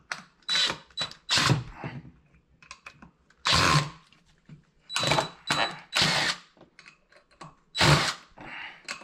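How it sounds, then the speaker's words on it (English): An impact drill drives a screw into wood in repeated short bursts with pauses between, loud and close, each burst a rattling buzz. "I like these impact drills, but I don't like this"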